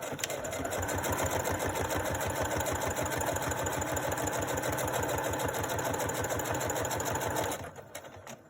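A sewing machine runs steadily at high speed, a fast even mechanical chatter that continues for several seconds before stopping abruptly.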